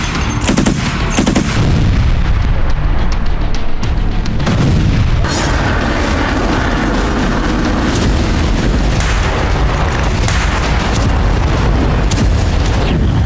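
Russian shelling on the Donetsk front in Ukraine, a loud, continuous roar of blasts and gunfire-like bursts that holds its level throughout, with no voices.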